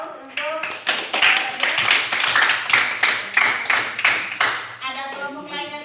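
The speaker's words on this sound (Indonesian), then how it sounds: "Beri aplaus untuk" A classroom group clapping hands in applause, a burst of many close, sharp claps in a quick irregular patter that swells and then fades out, with voices talking over it.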